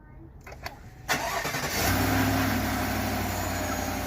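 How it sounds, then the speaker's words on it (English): A 2019–2021 Chevrolet Silverado with its stock intake cold-starts: a few quiet clicks, then a sharp crank that catches and settles into a loud, steady, high idle. "All right, that's a cold start."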